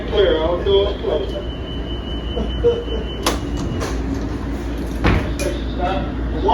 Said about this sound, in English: Stand clear, all doors closed.